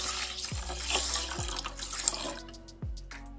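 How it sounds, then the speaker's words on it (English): Water runs and splashes into a container of rice being rinsed for hair treatment, a steady close pour with a few drips, no talking. "Just gonna add more water."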